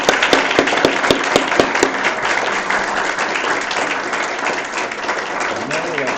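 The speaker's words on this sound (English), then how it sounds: "let's give them a round of applause for their service." An audience at a board of education meeting applauds, a steady dense round of clapping from a room full of people lasting several seconds, with a few sharp louder claps early on.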